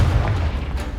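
The Confringo blasting spell in Hogwarts Legacy strikes with a short, heavy, booming impact, deep and close, fading within a second.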